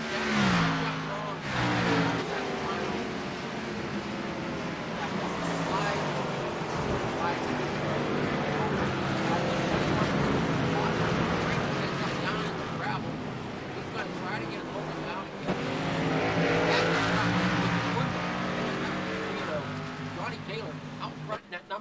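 Xfinity Series race cars in a sim racing game roar through a bus stop chicane, engines revving continuously and loudly with gear changes, while a driver talks over the noise.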